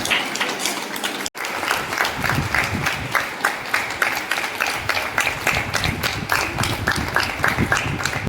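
Loud, sustained clapping from a crowd at a yoga institute district launch event, dense and continuous after a brief dropout near the start, with no talk over it.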